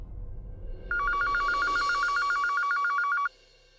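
A landline telephone line sounds a steady, pulsing ringing tone for a couple of seconds, loud and close, as if heard through the handset, with low background noise before it.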